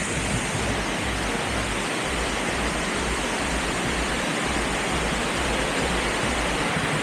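A river rushes and flows steadily beside the Kund Devi temple in Maharashtra, a broad, constant wash of water close by with no voices.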